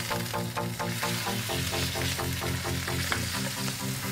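Goat meat for nasi goreng kambing fries in a wok with a loud, continuous sizzle and steady crackling. Rhythmic stirring scrapes sound throughout, with no talking.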